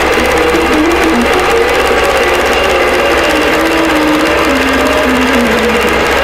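A quilting sewing machine stitches a tree skirt right to the edge of the fabric, with a loud, steady motor hum and whine that shifts slightly in pitch and runs without a break.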